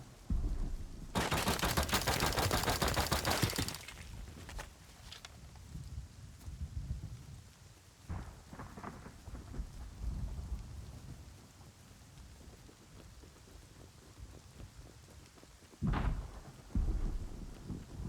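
Rain and thunder in the video game Rust, a long loud burst of rumbling crackle followed by steady rain hiss and a few sharper thunder cracks later.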